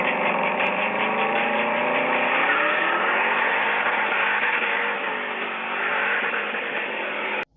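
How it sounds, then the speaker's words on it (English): A 1973 Chevy Camaro Z28 muscle car engine runs in a loud, steady close-up drone with shifting pitch, then cuts off abruptly at the end. "Another of Diesel's muscle car is this 1973 Chevy Camaro"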